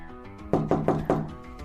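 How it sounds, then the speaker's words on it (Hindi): Four light knocks on a door, evenly spaced and close by, with no talking around them. "उसने डोर पर हल्की सी दस्तक दी और अनुमति मांगी।"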